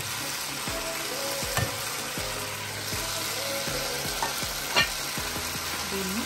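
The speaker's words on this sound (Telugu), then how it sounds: "అన్నీ కలిపి హై ఫ్లేమ్ మీద టాస్ చేద్దాం." Schezwan burnt garlic noodles tossed and stir-fried on high flame, a constant loud sizzle with repeated scraping and clanking of the utensil against the pan in an irregular rhythm, close up and without talking.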